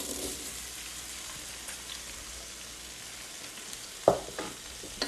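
Blanched, sliced carrots hit a hot pot with a soft, steady sizzle, then a louder clatter as they are stirred near the end.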